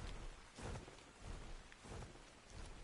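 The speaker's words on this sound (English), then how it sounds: "we refill our water in the rain" Steady rain falls in the survival video game Ark Survival Evolved, a dense, even hiss of downpour with soft swelling gusts throughout and no voices.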